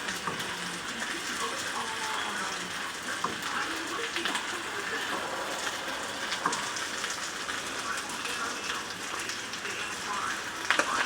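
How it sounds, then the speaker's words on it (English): A wooden spoon stirs Kenyan-style pilau in a pot, a faint, steady sizzle and soft scraping with no voice. "Take my wooden spoon and stir it in."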